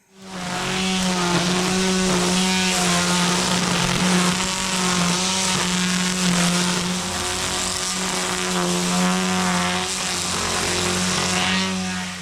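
A lawn mower cuts a gym lawn. Its engine runs steady and loud for the whole stretch, the note shifting a little about two thirds of the way through.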